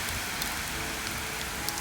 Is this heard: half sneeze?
no